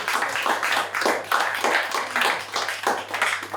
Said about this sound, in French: Et puis un petit applaudissement me ferait plaisir